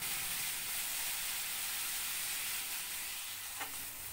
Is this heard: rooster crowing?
no